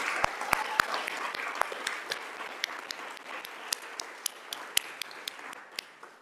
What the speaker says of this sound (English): Can I have one more round of applause for Mr. Jennings?